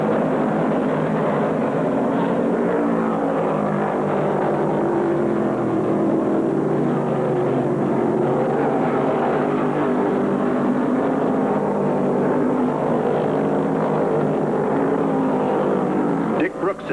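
A field of 1974 NASCAR stock cars races at the Carolina 500, a loud, sustained engine drone with shifting pitch as the pack runs the track, continuous throughout beneath an announcer's commentary.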